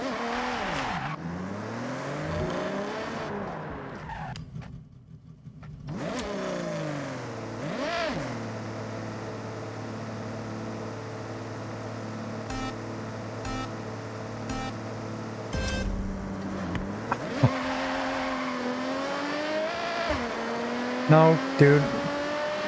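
A video-game all-wheel-drive drag car launches and accelerates, engine revving and climbing through gears with tire squeal, loud and sustained, while a voice talks briefly over it.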